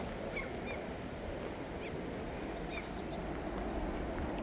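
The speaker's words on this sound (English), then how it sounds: "But still you hear the birds," Geese honk a few times in the distance under a grey spring sky, faint calls over a steady low outdoor rumble.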